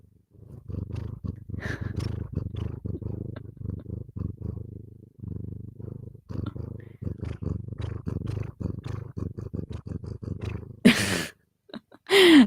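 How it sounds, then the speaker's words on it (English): A pet cat purrs close up in a steady, rumbling rhythm of breathy pulses that runs for most of the stretch, briefly pausing midway, followed by a short burst of louder noise near the end. "you could probably hear him purring"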